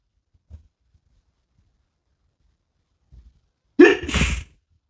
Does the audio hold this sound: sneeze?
yes